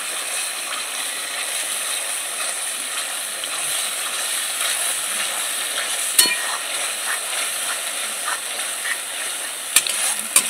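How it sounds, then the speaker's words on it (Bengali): Spice paste fries in hot oil for a jackfruit curry, a steady close hiss and crackle with occasional sharp clicks of a spatula against the pan. "মশলাটা একটু ভালো করে কষিয়ে নেব"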